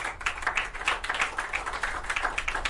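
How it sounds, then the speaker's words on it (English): Scattered clapping from a small online audience, a steady patter of light, quick hand claps lasting a few seconds, fairly quiet with no talk over it. "I do deserve this applause"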